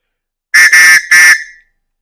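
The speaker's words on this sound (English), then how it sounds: "So here's that whistle. As you can see, it's a 3-chamber." A loud, shrill three-chamber, three-tone survival whistle blown in three quick blasts, the last one held a little longer before cutting off.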